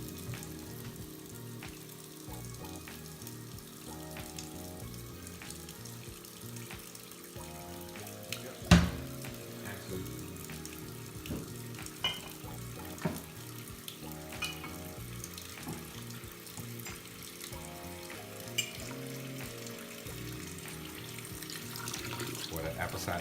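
Water runs steadily from a tap into a stoppered kitchen sink, a continuous hiss and splash, with a sharp clunk partway through and occasional light knocks.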